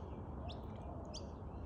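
Magpie chicks calling from a nest, several faint thin high chirps rising briefly above a constant low background rumble, heard at a distance with no voices.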